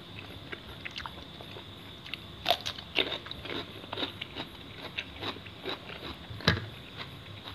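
Someone eats blanched squid dipped in spicy seafood sauce, with close, soft chewing and small crunchy bites in an irregular rhythm and a few sharper clicks, quiet and with no talk.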